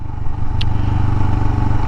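A Royal Enfield Himalayan motorcycle engine thrums loud and close with a steady, low pulsing beat while riding down a drop-off hill, with a brief clatter partway through.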